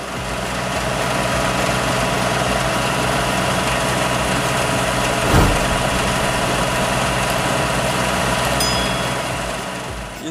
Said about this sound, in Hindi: यह पंप ट्रैक्टर के इंजन के द्वारा चलता है